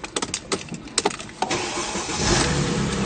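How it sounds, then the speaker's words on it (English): A Mercedes-Benz E-Class with 46,000 original kilometers cranks with a few sharp clicks and bursts, then fires up and settles into a smooth, steady idle, close and clear. "Fires right up."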